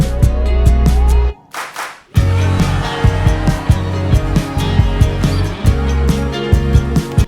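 Rhythmic handclaps in a song, softened with added reverb, land in a steady beat over the music, pausing briefly before resuming with a full backing track.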